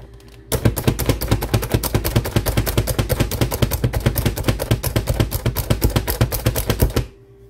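An electric food chopper whirs and chops three small celery stalks in a rapid, loud, evenly pulsing burst lasting about six and a half seconds, then stops abruptly.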